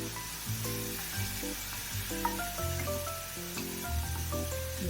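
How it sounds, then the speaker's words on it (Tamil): Milk is poured into grated carrots cooking in ghee for carrot halwa, setting off a continuous close sizzle and bubbling hiss under a melodic background tune, with no voices. "நம்ம எடுத்து வச்சிருந்த இந்த மில்கை இதில் சேர்த்துடலாம்"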